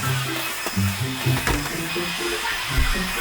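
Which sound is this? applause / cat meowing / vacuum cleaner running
vacuum cleaner running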